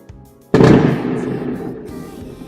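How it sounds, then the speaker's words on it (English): A loud firework burst goes off abruptly, then rumbles and crackles as it decays over a couple of seconds, with faint background noise before the blast. "I'm trying to end without all these loud fireworks in the background."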